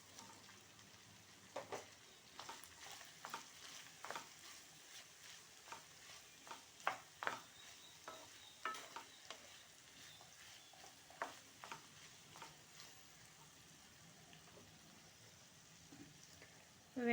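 Capsicum and potatoes stir-frying in a pan, with a soft steady sizzle under repeated light scrapes and taps of a spatula at an uneven rhythm, close by and fairly quiet.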